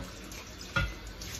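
Water from a tap running over a sharpening hone as it is rinsed, a brief, faint splashing wash with one slightly louder gush midway, no voices.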